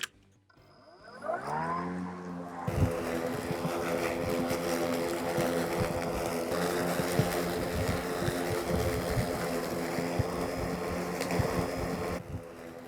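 A GRIN BM46 82V battery lawn mower running in eco mode spins up from quiet to a steady whirring drone in 10 to 15 cm grass, with faint rattles and swishes before cutting off at the end.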